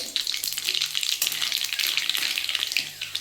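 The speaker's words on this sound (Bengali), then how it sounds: "আমি তেলের মধ্যে কয়েকটা শুকনো লঙ্কা ফোড়ন দিলাম আর একটু কালো জিরে" Dried red chillies and nigella seeds fry in hot oil, giving a continuous bright sizzle and crackle with a few soft clinks, heard alone and close.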